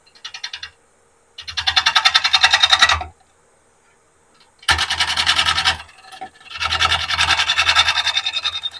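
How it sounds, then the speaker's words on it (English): Wind River gouge scraping and cleaning the face of a large cedar bowl during rough-out turning, loud rasping bursts of about one to two seconds separated by short silences, close up with no talk. "I'm going to go ahead and clean this face off here with my Wind River gouge."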